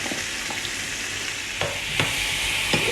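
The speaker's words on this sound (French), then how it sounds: "Donc là, je vais sauter les courgettes." Courgettes sautéing in hot olive oil in a pan, giving a loud, close, continuous crackling sizzle with a few soft stirring knocks.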